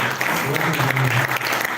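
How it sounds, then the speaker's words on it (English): An audience at an Abuja open house art event gives a full, steady round of applause for Duke Cedric, a figure in the art industry. The clapping is dense and continuous, with a voice faintly under it. "Please, can you give him a round of applause?"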